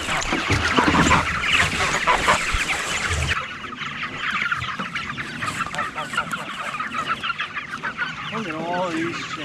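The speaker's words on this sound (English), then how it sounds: "Look at all these chickens." Chickens cluck steadily on a farm, a busy flock close by with overlapping calls and a rooster-like crow near the end, all continuous and fairly loud without talk.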